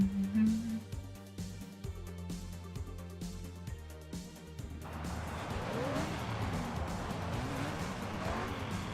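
Lamborghini Murcielago cars racing in Midnight Club 3, engines droning and shifting with tire squeals, a rhythmic pulsing section giving way to a broad wash of road and engine noise.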